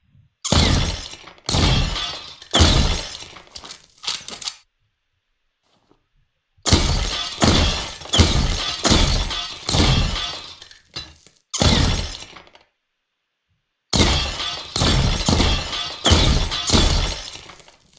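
Destructible objects shatter under gunfire in the video game Avenge, each shot bringing a loud glassy crash and clinking debris. The shots come in rapid clusters of four to six, separated by pauses of silence.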